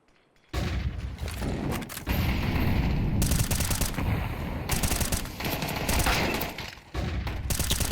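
Pistol fire in a Counter-Strike match, with rapid overlapping shots crackling loudly and almost continuously, no voices heard.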